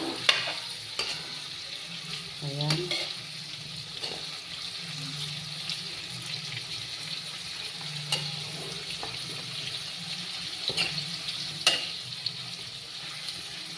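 Garlic sautéing in oil in a pan for a mung bean dish, a soft steady sizzle with light stirring and scraping clicks spread through, fairly quiet and close.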